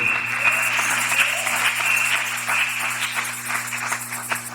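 A church congregation applauds steadily, a dense wash of many hands clapping at close range for several seconds, with a low hum running underneath and no speech.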